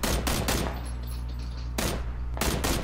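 Bursts of automatic gunfire in PUBG, fired in rapid stuttering volleys at the start and again near the end, with a quieter lull of lingering echo between them.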